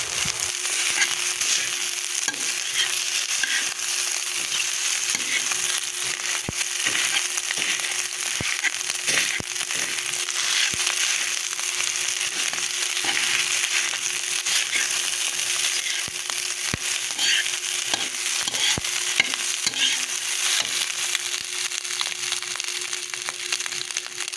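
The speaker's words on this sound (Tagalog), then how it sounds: "Isama na po natin ngayon ang ating bahaw na kanin na atin pong dudurugin ng konti" Leftover rice crushed and stir-fried in a pan with other ingredients, a dense continuous crackling sizzle with scattered sharp ticks from a spatula pressing the grains, even and steady throughout, close by with no voices.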